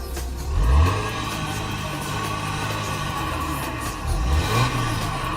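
An Audi Quattro with a 3-liter TDI diesel engine runs steadily with a low hum, swelling twice in short revs, near and fairly loud, with no talking.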